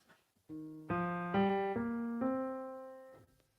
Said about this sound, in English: that uses a thing called the major pentatonic scale,